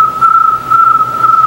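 A person whistles a steady, piercing high tone in imitation of a cricket chirp, holding it loud and close for about a second and a half with slight wavering pulses.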